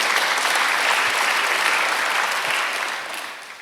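A church congregation at a Sunday worship service breaks into loud, sustained applause that fills the room, then starts fading toward the end.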